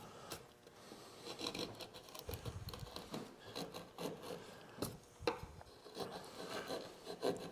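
A carving tool rasps and scrapes across wood while cutting a bevel on a spiral seashell carving, in irregular close strokes with small taps and pauses, no talk.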